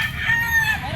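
A white-eared, yellow-legged rooster crows once at a pet market, a loud, close, sustained call lasting about a second.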